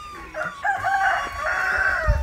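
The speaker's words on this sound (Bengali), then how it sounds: "ওই যে মুরগি ডেকে উঠল।" A rooster crows once in a village on the Ajodhya hilltop in Purulia, a fairly close, drawn-out call with a few low thumps at the end.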